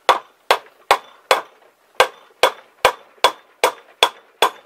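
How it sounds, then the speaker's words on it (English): A rubber-tipped mallet driving a bearing off a Ford 8.8-inch differential, eleven sharp knocking blows in a steady rhythm with one short pause, each crisp and close with a quick decay and nothing else heard. "we're going to have to pound that out by holding and supporting while we drive through with a rubber-tipped mallet"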